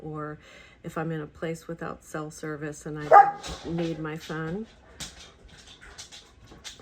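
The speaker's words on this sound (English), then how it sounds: "Sorry, that was my dog." A dog barks in a quick series of sharp woofs, close and loud, then gives a higher yelp and a few more barks, all under a person talking.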